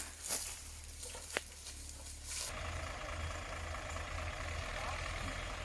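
A single-plow Ford tractor engine hauls a fully loaded sugarcane trailer, a low rumbling drone that swells in after a few faint knocks and then holds steady at moderate distance.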